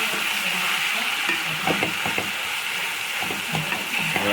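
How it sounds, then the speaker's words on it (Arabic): Minced meat and onions fry in a pan while being stirred, a steady close hiss of sizzling with intermittent scraping strokes of a spoon throughout, no talk. "قلبوا اللحم مع البصل كده كويس جدا."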